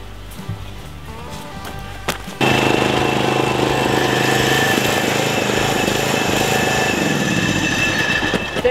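An old lawn mower engine starts up after a couple of seconds of quiet clatter, then runs loud and steady with a rough, dense mechanical roar right up close for the rest of the clip.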